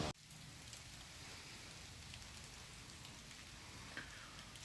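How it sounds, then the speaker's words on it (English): Rain falling outside a garage in Florida, a steady soft hiss of drops across the whole stretch, faint and even with one small tap near the end. "it starts raining"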